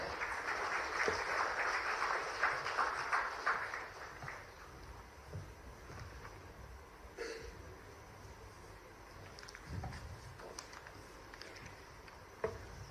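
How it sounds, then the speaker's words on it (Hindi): Audience applause at a CII Pune Zonal Council event, a broad burst of clapping that is fairly strong for the first few seconds and then thins to scattered, faint claps. "एक बार जोरदार तालियां हो जाए।"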